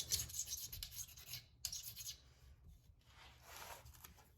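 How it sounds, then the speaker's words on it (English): A razor blade scrapes old gasket material off the mating surface of a Toyota dual transfer case, producing faint, soft rasping strokes in short bursts with brief pauses between them. "hold the razor blade like this and softly move it in this fashion to scrape off the old gasket material"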